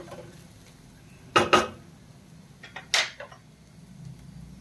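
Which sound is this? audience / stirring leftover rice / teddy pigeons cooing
stirring leftover rice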